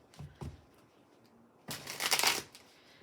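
Oracle cards in a tarot-style deck are shuffled, with two short riffle snaps and then a longer, louder burst of papery shuffling close by.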